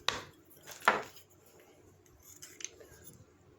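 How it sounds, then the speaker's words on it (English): A garlic press squeezes peeled garlic in a kitchen, making a few sharp metallic clicks and squeaks, with two louder crunches near the start and faint ones later, close and quiet. "Now I'll send it through the garlic press."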